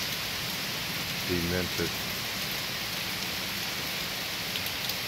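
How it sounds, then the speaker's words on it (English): Heavy rain pours down in South Carolina as a steady, dense hiss that fills the whole clip, with a voice briefly speaking early on. "Today in South Carolina, we have heavy rains."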